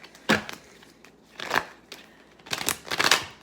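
Tarot cards riffle and slap together in a few quick, crisp bursts with short gaps between them, close by and fairly soft.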